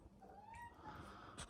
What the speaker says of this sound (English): I got distracted with Lily meowing